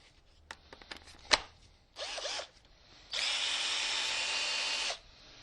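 A power drill whirs in short bursts, then runs steadily for about two seconds before stopping, after a few light clicks and taps, while working on a Kawasaki KZ440 motorcycle carburetor.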